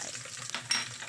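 Garlic and onion sauté in a pan with a brief, close, even sizzle and a small scrape or clink partway through.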